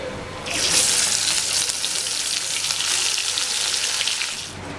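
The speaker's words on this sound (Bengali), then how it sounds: "আমি বাকি মাছগুলো একইভাবে ভেজে নেব।" Bhola fish frying in hot oil in a home kitchen, a bright hissing sizzle that swells in after a quiet start and holds steady and close for several seconds.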